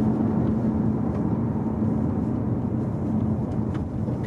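A 2017 Audi A4 2.0 TDI 190 Quattro S-Line with S-Tronic gearbox slowing down on the road, heard from inside as a steady low diesel rumble and road roar that eases slightly near the end, with no talk.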